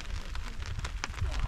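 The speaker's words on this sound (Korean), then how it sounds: "이렇게 갑자기 비가 와가지고 못 가고 있어요" Sudden rain falling in a Mongolian desert area, a soft, quiet patter of scattered drops striking a surface in a brief burst.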